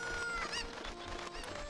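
Chicken clucking from the video game Ocarina of Time, a busy run of short, bright squawks and clucks with a steady game-music bed beneath, close and fairly loud throughout.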